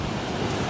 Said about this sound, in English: We have reached the Pacific Ocean.